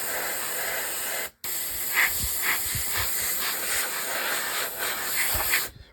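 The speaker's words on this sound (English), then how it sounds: "I'm going to airbrush all the interior and the inside of the cab" Steady airbrush hiss spraying paint onto an Airfix 1/35 scale Stalwart model, continuous and close with one brief break near the start.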